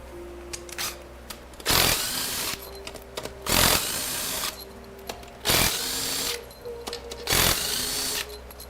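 Power tool spinning out pump bolts on a 5R110W TorqShift transmission during teardown, four separate loud bursts of a few seconds each with quieter shop hum between.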